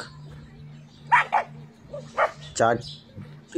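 Two dogs bark and yip in short, scattered bursts over a faint steady tone, with someone talking in the clip.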